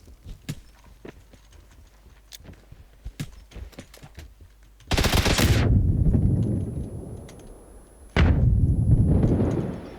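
Video game gun fired in burst mode: quick clicks and taps at first, then two loud, dense bursts of rapid fire, the first long and fading, the second sharp and close.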